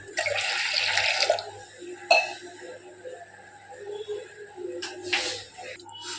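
Water pours and splashes into a pot in short bursts, with brief pauses and a clink between them, two tumblers of water added to milk.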